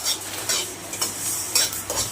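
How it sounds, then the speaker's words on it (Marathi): Onion dry-roasting in a kadhai on the stove, with repeated stirring scrapes and a light sizzle in an uneven rhythm, close and fairly loud, with no talking. "तिकडं कांदा भाजून घेते."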